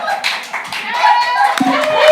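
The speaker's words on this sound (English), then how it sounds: "That deserves some applause." A small audience at a bar show claps after a crab dance, brief close hand claps mixed with voices and chatter.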